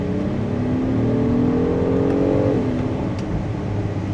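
A 2026 Acura MDX Type S SUV engine revs high and steady, then drops sharply in pitch as it downshifts, heard loud and close from inside the cabin.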